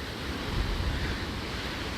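Ocean waves breaking on the Maine coast during a nor'easter, a continuous heavy roar of surf mixed with wind buffeting, loud and steady with no voices.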